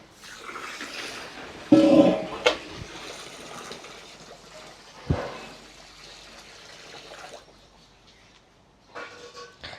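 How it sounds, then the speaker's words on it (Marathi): Water poured over finger millet to wash it makes a short gushing splash, then quieter trickling and a second brief pour, with a faint close clatter at the end. "आता त्याच्यात पाणी ओतून घेऊया"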